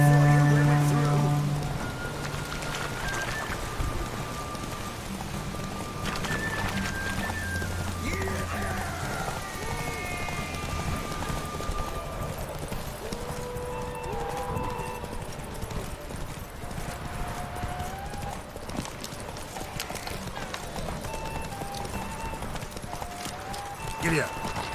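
Horse hooves clip-clop steadily in The Witcher 3 game, with rain pattering and an occasional whinny, while a rider's voice urges it on over background music.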